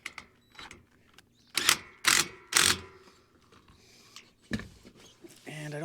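A ratcheting wrench tightens the bolts on a rail splice for a roof-mounted solar panel, giving several short, sharp bursts of clicking with quiet pauses between them, up close.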